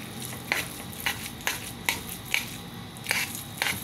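Sticky sweet rice for biko being stirred and mixed in a pan, soft squishy scrapes recurring roughly every half second, close and quiet with no talk.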